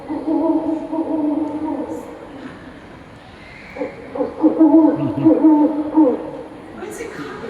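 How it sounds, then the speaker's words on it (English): Low, hollow hoots of a horned owl repeat in short series at night, fairly clear, with a faint voice briefly in between. "That does sound like a three-horned owl."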